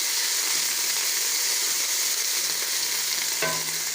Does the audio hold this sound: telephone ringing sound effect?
no